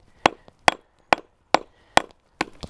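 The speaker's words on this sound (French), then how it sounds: "j'essaie également de le casser avec mon marteau" A geological hammer strikes schist rock with its flat end, six sharp, evenly spaced taps roughly every half second, close and loud with brief ringing decay, no voices.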